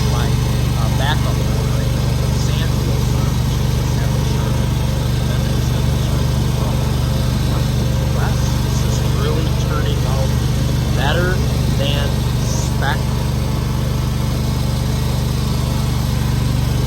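A mower clipping dormant dead grass on golf course greens on opening day, a loud steady engine drone running throughout, with faint chirps and rustling over the top.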